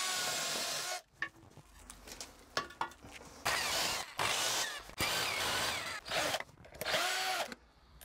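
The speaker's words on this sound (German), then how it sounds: "ich bohre die anderen drei jetzt noch vor." Power drill pre-drilling screw holes for a wall-mounted wheelbarrow holder, several loud whirring bursts of a few seconds each with short pauses and clicks between them, close up with no talking.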